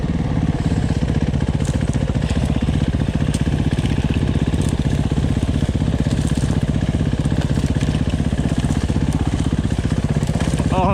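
An RMX450Z 450 dirt bike engine runs steadily close by, with a constant throbbing, crackly mid-pitched drone and no change in revs for the whole stretch.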